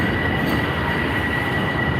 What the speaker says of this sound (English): When y'all hear that train, you know we midway through the show